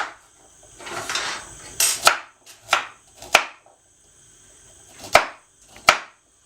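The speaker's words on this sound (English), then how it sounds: "Okay, so just chop those up." A knife chops carrots on a cutting board in a few sharp, uneven strikes spread across several seconds, close and clear against a quiet background.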